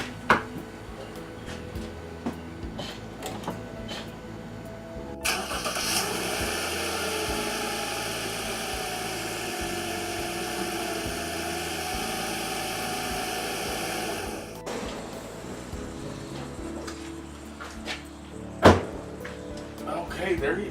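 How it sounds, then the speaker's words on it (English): A six-cylinder car engine jump-started with an Arteck 2000A portable jump starter cranks and catches, running steadily at a moderate level before cutting off, with a few thunks and clicks before and after. "This is just this starting a 6-cylinder engine."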